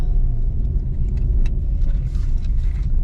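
Car rumbling steadily along a Puerto Escondido street, passing over big speed bumps (topes), with a continuous loud low engine and road drone and no talk.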